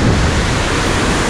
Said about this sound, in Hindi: ये है यहाँ पे नेचुरल गाड़ी धोने का बहुत ही खूबसूरत झरना